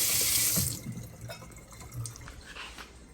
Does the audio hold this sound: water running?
yes